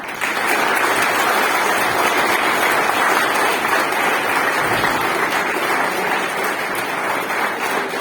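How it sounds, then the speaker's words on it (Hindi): An audience at an International Women's Day celebration applauds the chief guest after his speech with steady, loud clapping from many hands that holds evenly for several seconds. "हमारे मुख्य अतिथि सर के लिए जोरदार तालियां।"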